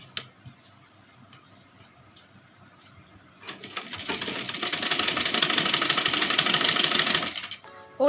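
Stitching a Rajputi blouse, a sewing machine starts after a few quiet seconds of light handling and runs in a steady, loud, buzzing rattle for about four seconds before halting.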